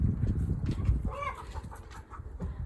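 Layer hens and meat chickens housed together in one big coop cluck and call in a few short bursts close by, over low rustling and shuffling, with no one talking.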